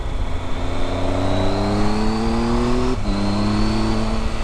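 A Triumph Tiger 1200 motorcycle engine drones steadily while riding on roads in the Pyrenees, with a smooth engine hum and rising pitch that dips briefly at a gear change, alongside constant wind rush.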